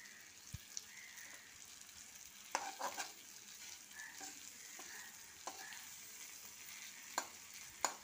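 Ginger-garlic paste with green chillies frying quietly in a pan, a faint low sizzle broken by a few sharp spatula clicks and scrapes.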